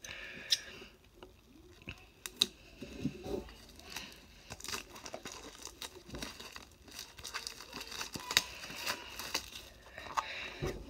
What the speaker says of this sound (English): we have a team up pack, and we're going to open it. I'm gonna use my scissors